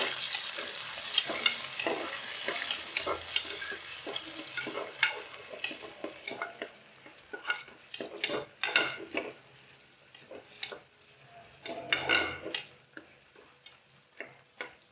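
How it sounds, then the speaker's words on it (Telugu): Chopped onions frying in a pan until golden, a soft sizzle broken by frequent scraping stirs and light clicks against the pan, close by with no talking. "కొంచెం గోల్డెన్ కలర్ వచ్చేదాకా ఫ్రై చేయాలి ఆనియన్స్"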